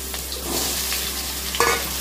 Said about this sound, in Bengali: বেগুন কটা ভেজে নেব আমি আগে।